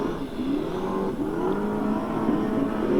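Super sedan race cars at the 1992 Victorian Super Sedan event, engines whining and rising in pitch as they accelerate, a continuous loud motor drone with overlapping cars and no speech.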